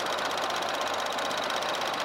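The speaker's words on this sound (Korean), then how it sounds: "엔진 소리도 너무 일정하고" A Chevrolet Trax engine idles, recorded up close in the open engine bay, with a steady, even mechanical hum and fast regular ticking that stays level throughout with no talk.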